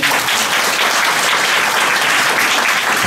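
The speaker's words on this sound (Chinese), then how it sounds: "来一下掌声，来掌声" An audience at an improv stand-up comedy show bursts into loud, dense applause that holds steady from start to finish with no talking over it.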